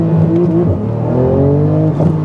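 A Porsche 911 GT2 RS engine revs hard and close, its rising whine climbing in pitch over a steady rumble, with a brief dip before pulling again.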